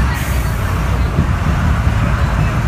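Buses and road traffic at a busy bus stand serving village routes such as Guhagar, Rajapur and Chiplun make a steady, loud engine rumble with an unbroken wash of road noise.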